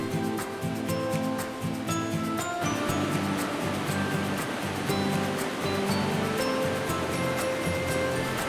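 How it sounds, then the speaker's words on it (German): A wild mountain stream in an Alpine waterfall valley rushes alongside a hiking trail, making a continuous broad roar of tumbling water that holds steady throughout. "Und immer an dem rauschenden Wildbach entlang."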